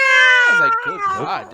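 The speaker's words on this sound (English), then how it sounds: "by the way, I apologize for my cat in the background." A pet cat meows loudly and insistently in a long, drawn-out wail close to the microphone, with someone talking over the end of it.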